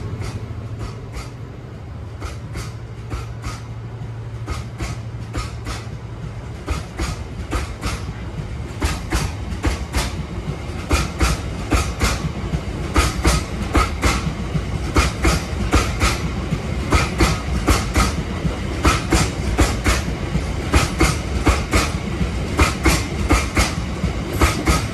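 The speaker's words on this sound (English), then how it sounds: "Trains incoming" A train rolls steadily past at close range on the Chase Line near Bescot Yard, Walsall, its wheels clacking in a quick repeating rhythm over a constant rumble, growing louder as it continues.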